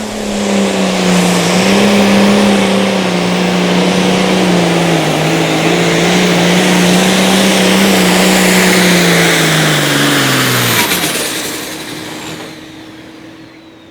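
A loud, steady light limited pro stock pulling tractor engine roars at full throttle with a slowly wavering pitch, then cuts off abruptly near the end, leaving a fading rumble.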